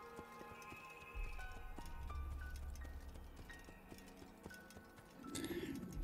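Horse hooves clop in a steady rhythm while riding in the video game Assassin's Creed, moderately loud over a layered orchestral music bed with faint ambient bird calls.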